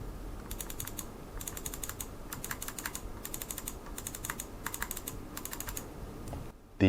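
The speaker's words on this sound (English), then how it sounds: "Then the right click." Bursts of rapid, crisp clicks come from the right button of a Redragon Cobra M711 gaming mouse, repeated in about seven evenly spaced clusters at close range over a quiet background.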